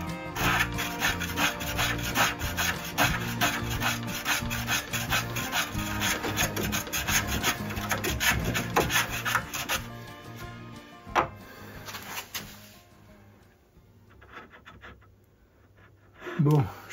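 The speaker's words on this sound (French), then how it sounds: "j'ai changé de rabot, j'en ai pris un avec une lame un peu mieux affûtée" A hand plane fitted with a freshly sharpened blade shaves a wooden surface smooth, giving repeated rasping strokes in a steady rhythm that are close and fairly loud, then thinning out into sparse, quieter passes near the end.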